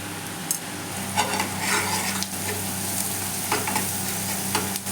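Turmeric, red chili powder and other spices stirred and roasted in a pan while making baingan bharta (eggplant), giving a steady close sizzle with soft scraping strokes throughout, no talking.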